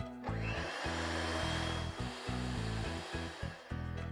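An electric mixer whips cake batter with half a cup of regular cooking oil, its motor droning loudly with rapid stop-start pulses as the beaters work the bowl.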